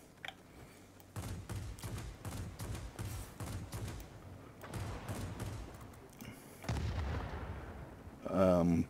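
Rapid bursts of 20 mm cannon fire from a J7W1 in World of Warplanes, heavy rhythmic thudding shots in repeated salvos, with a louder blast and a rising whine near the end.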